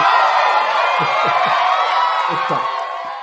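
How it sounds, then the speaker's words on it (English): A crowd applauds and cheers with whoops and shouts during a livestream about Ramen Racer toy car updates; a dense, loud, continuous roar that slowly fades toward the end. "Do I see get the applause going?"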